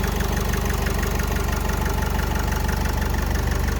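Close, steady idle of an Opel Vivaro 2.0 diesel van engine, a 2013 Euro 5 unit with electromagnetic injectors. A dense, even clatter runs unchanged throughout with no voices.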